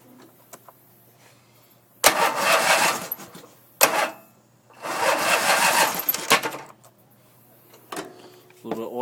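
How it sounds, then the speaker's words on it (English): A car engine is cranked over in two longer bursts of loud, rapid mechanical whirring separated by quiet, with short clicks and knocks around them during an oil change. "We'll crank the motor a little wee bit again."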